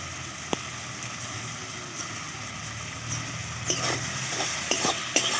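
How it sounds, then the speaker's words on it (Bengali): A spoon stirs a tomato masala paste sautéing in hot oil. It sizzles steadily and up close, with occasional scraping clinks of the spoon against the pan. "ভালো করে সব কিছু মিশিয়ে আমি মশলাটাকে ভালো করে কষে নিচ্ছি"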